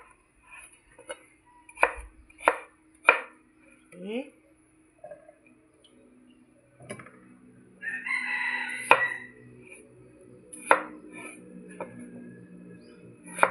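Knife chopping potatoes into cubes for a seafood coconut curry, several sharp spaced chops on a board near the start, then kitchen handling sounds, with brief speech and a rooster crowing in the background.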